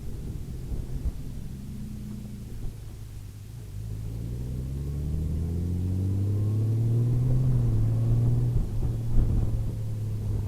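A 2018 Honda Gold Wing DCT touring motorcycle rumbles close by, its engine note climbing steadily as it accelerates, over a constant wash of wind noise with no voices.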